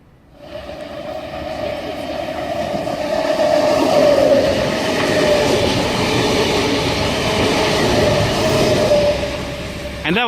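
Sydney suburban train, set V27, rolls through Petersham station on the up main line, a sustained loud rumble with a steady hum and rail clatter that swells and holds, then fades near the end.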